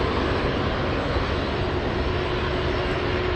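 China Southern jet airliner landing on runway 15 at Anchorage airport after a flight from Hong Kong on a windy day, a steady broadband engine roar and rushing air, loud and unbroken throughout.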